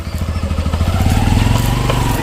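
A motorcycle engine runs close by with a loud, rapid throbbing beat that steadies into a continuous chugging drone, with no talk over it.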